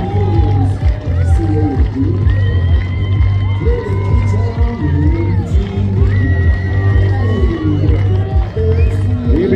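A crowd at a Norwegian death diving competition in Gjøvik cheers and whoops steadily, with loud voices and shouting layered over a busy outdoor din, people talking throughout.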